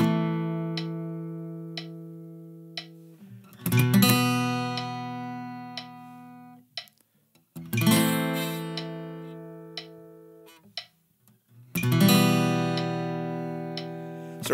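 Acoustic guitar chords strummed in three separate bursts with gaps between, the changes between shapes clumsy and unsteady, each chord ringing out loud and close with small stray string noises in the pauses.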